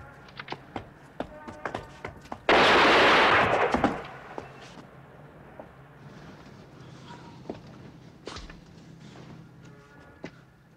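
Gunfire in the blaxploitation film Bucktown: a loud, dense burst of shots lasts just over a second, with scattered sharp clicks and taps before and after against a quiet background.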